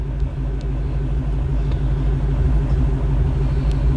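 A Shelby GT350 engine idles while its idle tune is data logged, a steady low rumble that holds even and continuous, loud and close with no voices.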